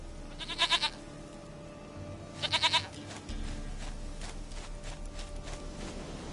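A goat in The Witcher 3 video game bleats in two short wavering bursts, a couple of seconds apart, over quiet ambient game sound.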